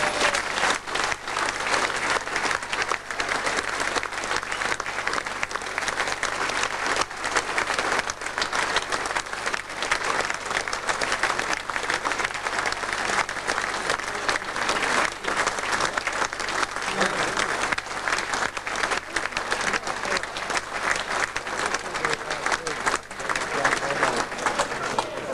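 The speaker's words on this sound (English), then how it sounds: "the applause you've received displays the people's feeling towards you" Sustained, loud applause from a large audience at a 1992 charity dinner honouring 1965 and 1966 grand final players, steady and dense throughout with crowd noise and no pause.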